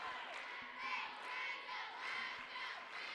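A crowd at a state basketball game in the United Wireless Arena in Dodge City, Kansas roars and cheers, with the noise rising and falling in waves and sharp court squeaks cutting through.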